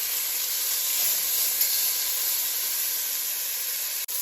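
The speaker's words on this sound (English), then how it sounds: "Then once your beef is seared pretty nicely on each side" Beef for birria tacos sears in a hot pan, giving a steady, bright hiss and sizzle that holds evenly throughout.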